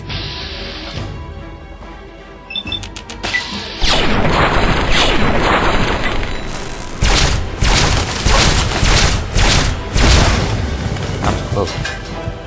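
Bombing explosions in Fallout 3, loud repeated booms and crashing blasts piling up close by in a heavy barrage, with someone talking over the din.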